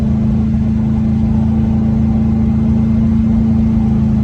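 A 1989 Range Rover Classic with a modified exhaust holds a steady 3,000 RPM on a grade, giving a loud, constant low engine drone with a strong even hum that runs unbroken throughout.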